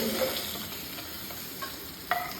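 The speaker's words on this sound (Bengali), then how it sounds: "মাছ ভাজা হয়ে গেল হ্যাঁ আচ্ছা, তুলে নেওয়া হচ্ছে মাছগুলো" Whole fried fish being lifted out of hot oil in a home kitchen, a steady, fairly loud sizzle running throughout with a couple of brief utensil scrapes near the end.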